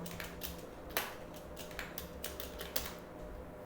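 Keys clatter steadily on a computer keyboard while code is typed for a ReactJS to-do app, with a run of light, quick clicks and a few sharper strokes, close and alone.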